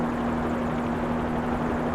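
A helicopter flies steadily in a flight simulator game, its rotor and engine giving a constant, loud drone with a strong steady hum throughout.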